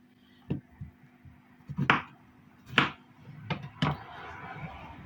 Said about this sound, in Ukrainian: Ось так я беру кабачок, ріжу з таким десь так